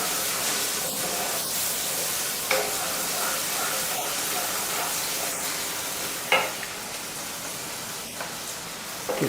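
Onions fry in a pan for a masala potato and capsicum sabzi, making a continuous close sizzling hiss broken by a few sharp spatula scrapes and taps.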